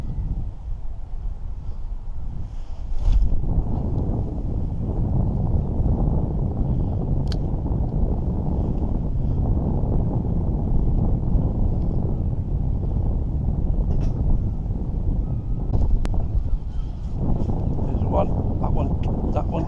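Side wind buffets the microphone on a UK fishing pier, a steady low roaring rush that continues throughout the clip.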